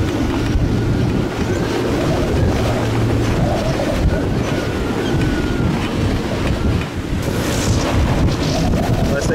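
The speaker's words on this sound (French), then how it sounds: "ça souffle à 40 nœuds là" Strong wind at about 40 knots roars across a sailboat at sea during a category 1 hurricane near Martinique, a loud, constant buffeting rush over sloshing waves, with microphone wind noise throughout.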